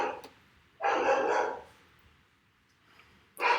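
A dog barks indoors at close range. A short bark at the start is followed by a longer, loud burst, then a faint yip and one more sharp bark at the end, with brief silence between them.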